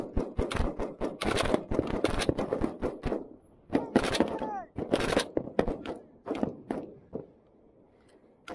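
Bursts of gunfire at a Marine Corps exercise, with rapid repeated cracks in clusters and pauses between, fairly close, and a voice shouting briefly among the shots.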